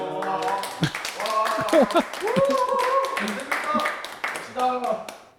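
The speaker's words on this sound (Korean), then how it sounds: "아니 저 혼자 여기 이렇게 덩그러니 내려놓고 뒤에서 다 박수를 쳐요." A small group of people claps in welcome at a home audio listening space, sharp scattered claps mixed under overlapping voices talking and laughing nearby.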